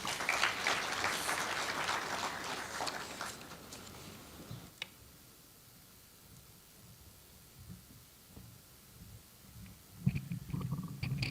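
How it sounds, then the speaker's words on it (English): Applause from a conference audience in Nairobi fills the opening seconds as a dense wash of clapping, then fades to a low murmur of room noise with a few scattered claps and a faint rise near the end. "Another round of applause for Honorable Mokaya."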